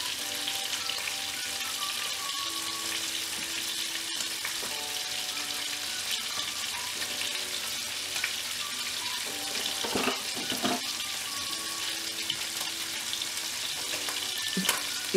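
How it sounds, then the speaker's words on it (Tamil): Sardines (mathi) fry in a pan with a steady, dense sizzle and crackle throughout, with occasional clinks and bursts layered over the continuous hiss. "சோ மீன் நல்லா ஃப்ரை ஆயிட்டிருக்கு"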